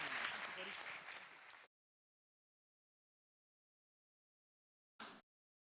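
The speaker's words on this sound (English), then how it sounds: "So big round of applause again." Town hall audience applauding loudly at a civic event, a steady burst of clapping lasting under two seconds before cutting out, followed later by a brief second flash of clapping.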